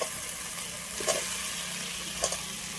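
Fried potatoes are stirred into sizzling spice paste for a silver carp fish curry, giving a continuous close hiss of frying with two brief scraping bursts from the spoon. No one speaks.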